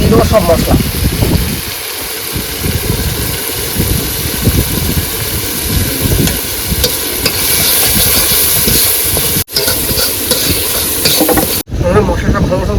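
Spices are added to a pan of lightly fried onion and chilli on a boat on a Sundarbans river, with loud continuous sizzling and stirring, engine hum beneath and people talking over it.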